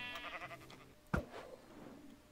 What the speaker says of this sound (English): Oh, there's sheep over there!